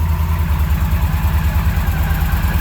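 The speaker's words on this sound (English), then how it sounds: "Let's give it a rev here. Nice strong motor." A 2011 Yamaha Stryker custom chopper-style motorcycle engine runs close and loud, its low, pulsing V-twin throb steady and rhythmic, sounding more like an even idle than a sharp rev.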